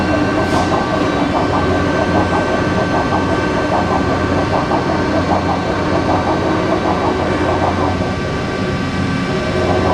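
A Cincinnati 20V vertical machining center tilts on its A axis: a loud, steady mechanical drone with a faint rhythmic clatter, close and unbroken throughout.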